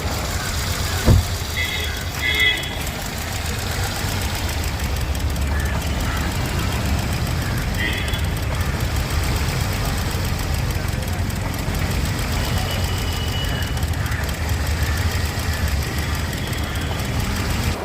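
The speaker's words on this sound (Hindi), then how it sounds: "इस तरह से मेरे आरा सीएनजी का जो इंजन है अब मिस फायर कर रहा है" A Hyundai Aura CNG engine idles with a misfire, a steady close rumble with a faint uneven knock running through it for the whole stretch.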